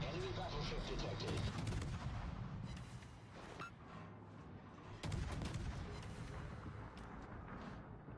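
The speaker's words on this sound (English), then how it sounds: "Why is the Yugamo firing?" Warship guns fire repeatedly in the naval video game World of Warships, loud booming salvos with a second heavy volley midway, over a constant dense battle din.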